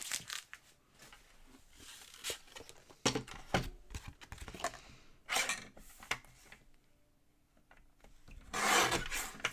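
Craft paper trimmed down with a paper trimmer or blade, several rasping scraping strokes in short bursts, near and fairly clear, with a longer scrape at the end and no talk.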